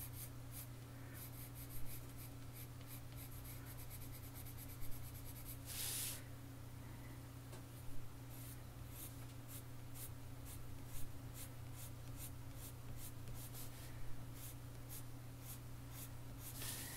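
A graphite pencil sketching on paper for a watercolor drawing makes faint, steady scratching, with a few slightly louder strokes at regular intervals over a low background hum.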